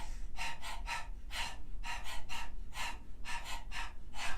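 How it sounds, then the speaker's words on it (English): Open-mouthed panting up close during a yoga breathing exercise, tongue out, breaths coming in quick rhythmic bursts with brief pauses between groups, like a dog panting. "open the mouth, stick out the tongue, and begin to pant rhythmically like a dog"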